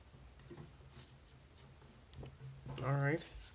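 Origami paper is folded in half along a crease, making soft close scraping and rubbing sounds, with a brief voice at the end.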